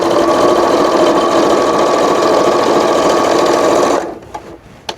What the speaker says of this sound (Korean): 재봉틀 원래 이렇게 안 시끄러운데?